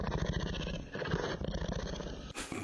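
A cat's meow and growl pitched far down, turned into a deep, rumbling cougar-like snarl that pulses in rough bursts, loud and close, ending with a short bright burst.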